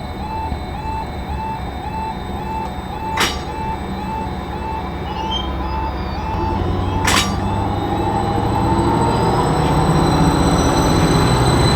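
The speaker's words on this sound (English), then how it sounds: "I decide to watch one more train go past" A train passes through Buckenham station, a small little-used stop on the Wherry Lines, with a steady rumbling drone that swells toward the end, whining tones and two sharp metallic clacks, no talk.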